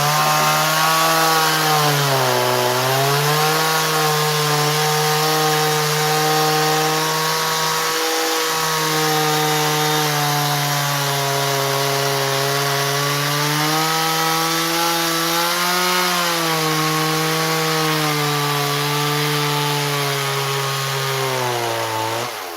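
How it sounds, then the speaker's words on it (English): A chainsaw rips through wood, its engine droning loud and steady for over twenty seconds, with the pitch dipping and rising slightly as the bar bites and eases through the cut. "I think that's all the chainsaw work."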